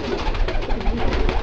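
Pigeons in Miramar, including Buchón Media Línea show pigeons, make soft, continuous cooing and rustling sounds at close range. The sound is steady and busy throughout, with no voices.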